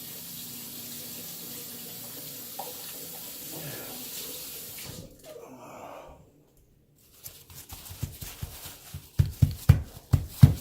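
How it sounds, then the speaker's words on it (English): Running water from a sink tap pours steadily while hands are washed beneath it, then cuts off, followed by a series of louder nearby knocks and rustles of hands and items at the sink. "wash my hands real quick"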